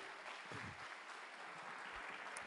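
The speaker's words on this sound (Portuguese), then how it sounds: "Uma salva de palmas!" A small audience at a live hypnosis show bursts into brief applause, a quiet, evenly sustained patter of many hands heard from some distance.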